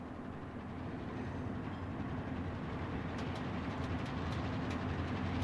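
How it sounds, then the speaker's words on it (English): A train in a video game approaches with a steady low rumble and clattering wheels, a broad continuous roar holding at moderate loudness with faint metallic ticks toward the end. "Train's coming."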